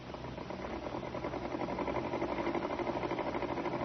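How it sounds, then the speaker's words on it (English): A sewing machine effect in a live radio theatre murder-mystery production, a steady fast mechanical whirring with a rapid regular rhythm, running continuously at moderate level. "Miss Winthrop, you heard the sewing machine just now."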